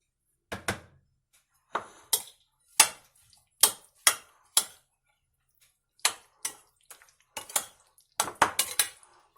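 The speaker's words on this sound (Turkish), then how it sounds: "Şimdi karıştıracağım." A utensil stirring a salted yogurt noodle salad in a bowl, heard as a series of close, distinct clinks and scrapes spaced a second or so apart, with brief quiet gaps between them and no voices.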